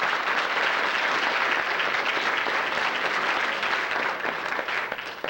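Steady, dense audience applause at a leadership summit on voting and community unity in Austin, loud and sustained throughout before thinning slightly at the end.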